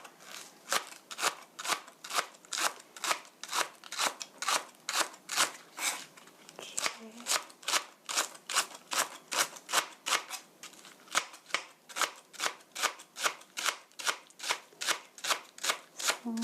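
A knife slices green onion thinly, about 0.2 cm thick, on a cutting board in quick, even, crisp chops that repeat steadily and close up with no talking.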